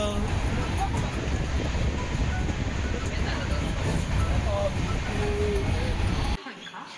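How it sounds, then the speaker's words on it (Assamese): A passenger train pulls out of Cooch Behar station, its carriages giving a steady, loud low rumble and rattle with wind noise throughout, cutting off abruptly near the end. "এতিয়া ট্ৰেইন ষ্টাৰ্ট দিলে আমাৰ কোচবিহাৰৰ পৰা এৰিলে"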